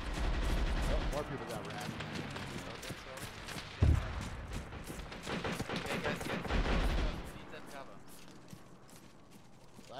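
Scattered and bursting gunfire in Arma 3 during an invasion of Poland battle, with a sharp loud shot near the middle among distant rattling fire, under someone talking.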